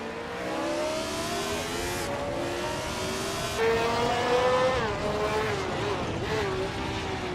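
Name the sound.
race cars racing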